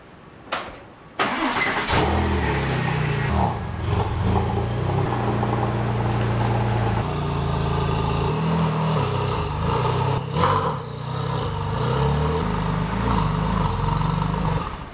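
A Porsche 996 911 Turbo starts up with a sharp crank, then idles with a deep, steady rumble and small revs while the car is turned around, close and loud.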